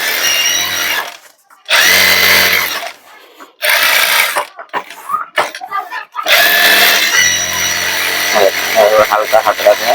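Sewing machine stitching a full-collar churidar, running in several loud bursts of whirring with short pauses between runs.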